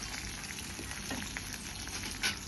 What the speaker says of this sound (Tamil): எண்ணெய் காஞ்சதும் வடகம் சிறிதளவு நீல வாக்கில் நறுக்கினோம் 3 பச்சை மிளகாய், 3 காஞ்ச மிளகாய், சிறிதளவு கருவேப்பிலை எல்லாத்தையும் சேர்த்து பொரிஞ்ச பிறகு